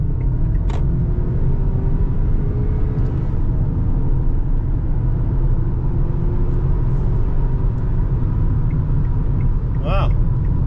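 A Kia Sorento with a 2-liter engine is driven hard, its engine and road rumble forming a steady, loud drone heard from inside the cabin, with a faint whine climbing through the noise.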